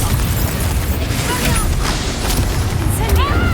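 A Confringo fire spell bursts in the video game Hogwarts Legacy, a loud booming blast with crackling effects filling a dense, continuous wash of combat sound.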